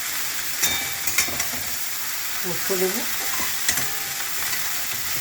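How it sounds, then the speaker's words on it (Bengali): Leafy greens sizzling and frying in a pan as they are stirred, a soft steady crackle with scraping stir strokes, while someone talks briefly over the cooking. "একটু শাকটা নাড়াচাড়া করুন"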